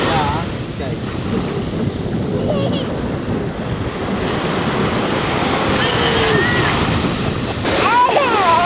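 Sea waves wash onto a beach in Spain in a loud continuous roar with wind buffeting the microphone, and voices briefly break in near the end.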